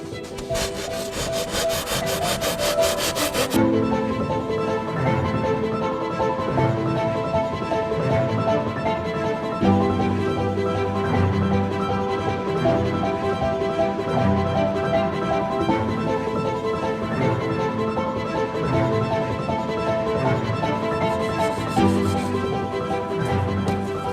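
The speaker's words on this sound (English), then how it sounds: "Here we go with the drill rasp" A drill rasp shapes a wooden letter B, making a continuous loud grinding and rubbing on the wood that runs for the whole stretch with small shifts in pitch and no talking over it.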